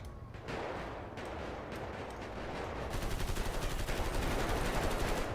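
Gunfire rattles through a GTA roleplay shootout on rooftops, first scattered shots and then sustained rapid automatic bursts that grow denser and louder in the second half.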